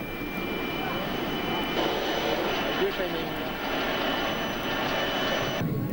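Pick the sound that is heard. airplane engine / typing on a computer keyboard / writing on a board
airplane engine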